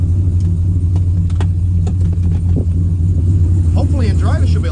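Big-cam LS V8 idling in park/neutral, a loud, steady low rumble with a loping, slightly uneven beat and occasional transient clicks, running alone without speech.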